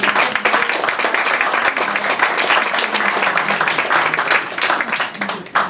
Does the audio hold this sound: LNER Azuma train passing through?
no